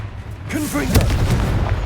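A fiery Confringo spell blast from the wizarding game Hogwarts Legacy booms in the foreground over a continuous low rumble, with a voice speaking briefly over it.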